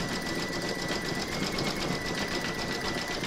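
An embroidery machine stitches a zigzag round on an in-the-hoop heart banner, its needle hammering in a fast, steady, continuous rhythm close up with no talk.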